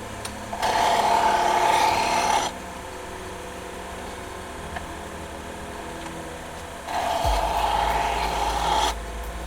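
A knife blade and its tip are ground in two bursts of harsh, close abrasive rasping, separated by a quieter stretch of background hum.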